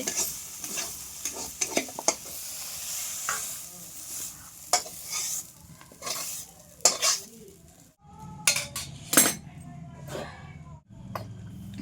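Mushrooms fry in oil in a kadhai over a wood-fired stove, with a steady sizzle and repeated scraping, clinking stirs of a metal spatula against the pan, close and fairly loud, with occasional voices.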